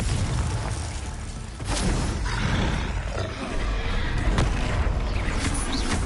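A Confringo blasting spell goes off in Hogwarts Legacy, a booming, roaring burst amid dense, continuous combat noise, with rumbling impacts and swelling magical effects over about six seconds.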